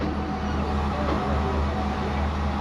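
Train in Sri Lanka rolling along with a steady, loud rumble and clatter heard from inside a second-class carriage, continuous and without talk.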